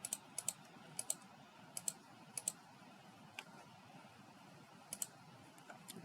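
A computer mouse clicks quietly in irregular bursts of single and double taps, sharp and faint against a soft room hiss.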